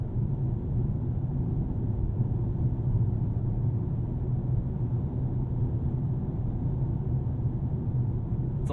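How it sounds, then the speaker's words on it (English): Steady, low road and tire roar fills the cabin of a Mercedes-AMG GT63 S cruising at speed, a constant dull rumble with no voices over it. "It's a lot of tire noise."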